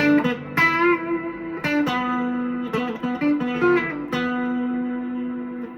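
Guitar played through a Catalinbread Sinkhole ethereal reverb pedal with the reverb at about 8, sustained notes and chords blooming into a lush washy tail, several attacks over a steady ringing bed, with no talking.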